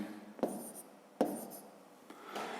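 A pen writes out a long division by hand on paper, quiet scratchy strokes with a few sharp taps as it touches down, close and faint, without speech.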